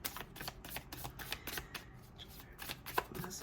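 Tarot cards being shuffled and drawn, a run of quick papery riffles and soft snaps coming in bursts close by, with no voices.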